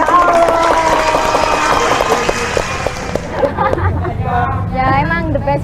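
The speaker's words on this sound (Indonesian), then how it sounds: "Tepuk tangannya Randy" Applause for Randy breaks out among a small theatre group during a relaxed chat, a dense patter of clapping under crowd chatter that thins out as voices take over.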